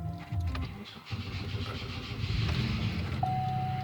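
A 2002 Buick Rendezvous engine cold-starts inside a garage, cranking briefly and then catching into a steady, fairly loud idle with a faint whine near the end.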